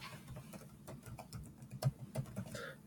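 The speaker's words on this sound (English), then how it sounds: "go ahead and type in Stanford once again" Close typing on a computer keyboard while entering answers into an online quiz, a quick irregular run of soft key clicks with a few louder taps, quiet and without speech.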